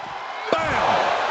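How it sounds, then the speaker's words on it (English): Ambulance door slammed shut during a WWE 2K25 Ambulance Match between Triple H and Randy Orton, a single sharp bang midway through, heard under ongoing commentary and crowd noise. "And they can slam this door shut."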